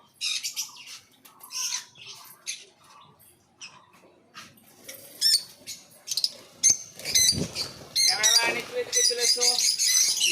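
Small exotic birds kept in a shop in Murshidabad chirp and tweet in quick bright bursts, growing busier and louder toward the end, with a voice speaking in between.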